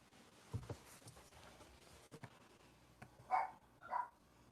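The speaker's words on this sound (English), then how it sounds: "And my dog is barking." A dog gives two short, muffled barks from another room near a kitchen stove, set against quiet household background with faint clicks.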